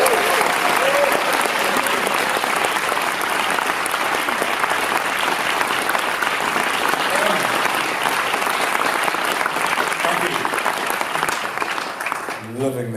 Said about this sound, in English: let's celebrate that with a massive round of applause